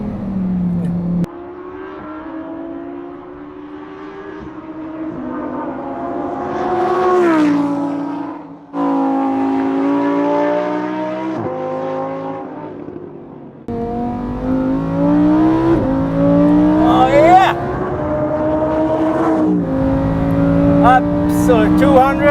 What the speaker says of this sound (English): But in sports mode, it's all about having fun.